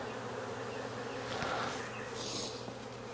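Honeybees from a double-swarm hive in Jacksonville, Florida hum in a steady, faint, continuous drone, with occasional nearer buzzing passes rising over the constant background.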